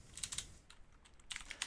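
Light clicks of typing on a computer keyboard while coding in an IDE, two short quiet bursts of rapid keystrokes with a brief pause between them and no voices.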